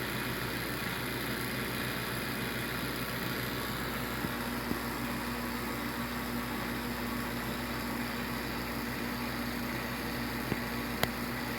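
A running home freeze dryer drying farm eggs gives a steady mechanical hum with low vibration buzzing through its hose, constant and moderately quiet with no talk.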